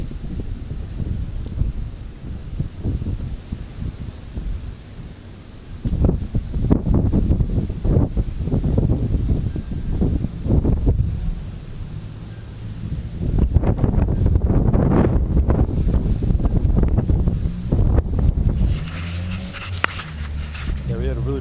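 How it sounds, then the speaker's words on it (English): Strong outdoor wind after a big overnight storm, buffeting the microphone in heavy rumbling gusts that swell and fade, with rustling in the background. "it's been windy like this all day. I think it's actually getting worse."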